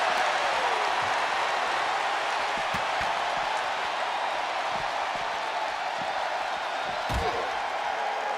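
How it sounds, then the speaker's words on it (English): A WWE wrestling arena crowd roars in a steady, loud, unbroken wash of noise, with a few dull thuds scattered underneath. "The roar of this crowd has been building, and they are at a fever pitch right now."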